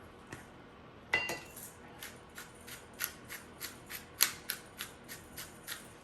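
A pepper mill grinds black pepper over a baked chicken meal, giving a steady series of about a dozen crisp, close clicking ratchet turns in an otherwise quiet room.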